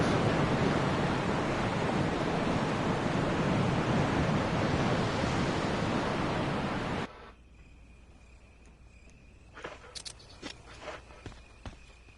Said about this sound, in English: can hear the sound of a waterfall in the distance